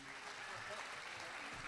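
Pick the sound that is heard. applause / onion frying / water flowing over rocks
applause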